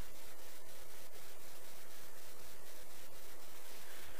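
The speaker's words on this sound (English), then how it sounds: "Before I grease it, I wipe all the zerks clean so you don't force any dirt into the joint." A rag rubs steadily over the grease zerks on a Jeep with a 4.0L engine, a continuous close scratchy wiping with faint rhythmic strokes and no talk.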